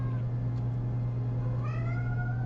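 A cat meows in the Nancy Drew game Mystery of the Seven Keys, a few rising, drawn-out calls over a steady low hum of game ambience, with no talking.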